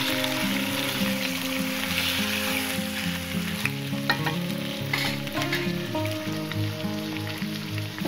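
Mutton from a dumba sheep stir-fries in a karahi for Shinwari-style cooking, a dense continuous sizzle with a spoon clinking and scraping against the metal, up close and without speech.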